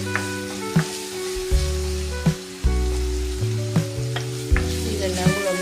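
A sardine curry base of chopped tomato and kudampuli sizzles steadily in a hot pan, with sharp stirring clicks and scrapes about once a second. It is close and continuous, with no talking.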